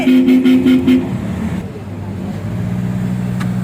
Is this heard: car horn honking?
yes